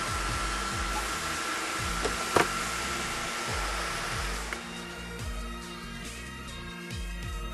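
An asymmetric brushless motor spins near 2900 RPM, pushing a strong stream of air: a steady, loud whirring roar with faint tonal hum and one sharp click partway through.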